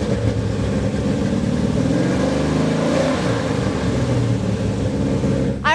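Custom show car engine rumbling loud and close, idling with a deep steady throb, then a brief rev swelling midway before settling back, with a sharp burst at the very end.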